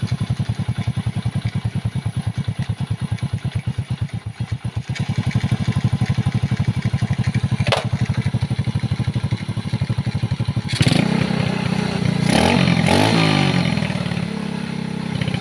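A motorcycle engine that has been knocking while running and stalling suddenly on the road, heard idling close up with a steady rapid clattering pulse, then revving harder near the end.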